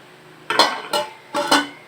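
A pot lid set back onto a cooking pot, three close metallic clanks and rattles in quick succession, loud and near, with no talking.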